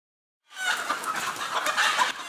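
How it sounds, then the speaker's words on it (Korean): Jeju native chickens, a purebred local breed kept at a livestock promotion center, cluck and squawk loudly and continuously as quarantine workers catch them during an avian influenza cull, a dense flurry of agitated fowl calls with no talk. "방역 요원들이 닭을 잡아 빨간 포대에 한 마리씩 담기 시작합니다"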